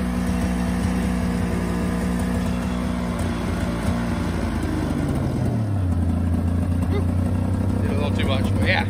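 A Polaris RXL 650 triple snowmobile engine idling, a steady droning hum that drops in pitch partway through as the idle settles lower, close and continuous, with a voice talking over it.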